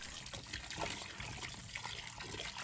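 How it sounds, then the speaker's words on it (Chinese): Bitter melon rinsed under a running kitchen tap, a steady close trickle and splash of water with no talking. "这时候将苦瓜清洗一下"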